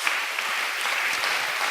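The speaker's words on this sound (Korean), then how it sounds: "우리 하나님께도 우리 감사와 영광의 박수 올렸으면 좋겠습니다" Dense, steady applause from a large church congregation, continuous and fairly loud throughout with no voices standing out.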